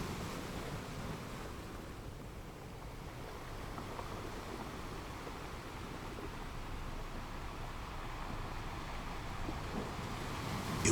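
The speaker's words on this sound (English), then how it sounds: "Let the sound of the waves lull you into a deep, peaceful sleep" Stormy ocean surf rolls in a continuous, broadband roar of crashing and washing water mixed with gusting wind, moderately loud and unbroken, with no voices.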